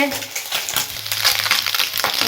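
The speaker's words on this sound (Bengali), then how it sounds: "মাছ ভাজা" Small river fish (mourala) fry in a pan with a dense, steady crackling sizzle up close, with faint voices in the background.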